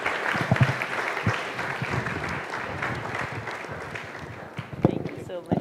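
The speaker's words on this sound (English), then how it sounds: "Big round of applause." An audience at a hotel conference hall claps in steady, sustained applause lasting several seconds, with a few louder claps near the end.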